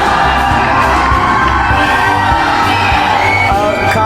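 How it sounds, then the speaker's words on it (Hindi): A large audience cheers and applauds at a Khan Sir event at LPU in Punjab, with loud, dense crowd noise, whoops and shouts sustained throughout. "चलिए खान सर के लिए एक बार जोरदार ताली बजा दीजिए।"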